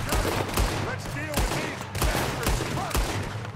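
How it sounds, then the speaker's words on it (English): Rapid gunfire crackles in Red Dead Redemption II, repeated sharp loud shots in irregular bursts with a voice talking briefly between them. "Headshot, I like."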